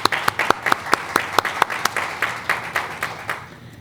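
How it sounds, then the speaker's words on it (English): Applause from an audience at a school board meeting, a brief burst of many hands clapping together, moderately close, with distinct sharp claps and a slight fade at the end. "So yes, applause to those students."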